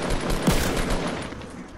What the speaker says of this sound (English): Shoot this damn tree out the way